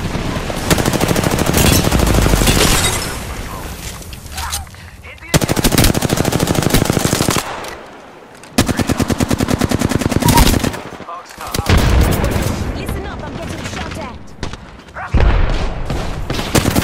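SMG fire in Apex Legends: long, loud automatic bursts separated by brief pauses, close and dominant, with no voices.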